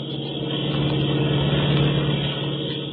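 In an old-time radio drama, a car drives through a tunnel, its engine making a steady, enclosed, low hum that stays fairly loud and constant throughout, with no voices.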